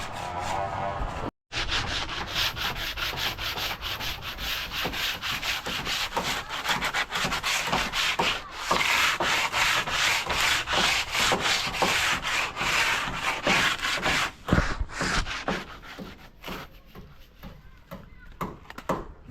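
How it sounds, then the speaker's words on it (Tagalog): Rough, rhythmic rubbing of sandpaper on a wooden boat, repeated back-and-forth strokes continuing steadily for a long stretch, close by, with a brief pause partway. "Liha-liha time."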